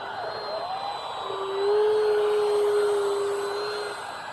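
An E-Flite Habu electric ducted-fan model jet at about half throttle gives a steady airy whine with a thin tonal hum that swells briefly in the middle, then eases as it passes.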